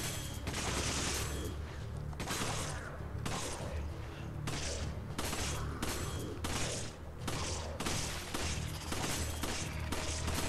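Constant loud gunfire in Resident Evil 5, with rapid overlapping shots and bursts layered into a dense, unbroken barrage.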